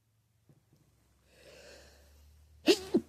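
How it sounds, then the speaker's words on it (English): A single loud, sharp sneeze comes after a quiet, breathy intake and a few small sniffs, close and clear against near silence. "Why would you hold back a sneeze?"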